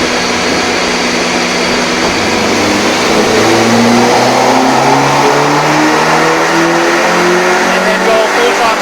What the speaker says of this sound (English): and then go full throttle.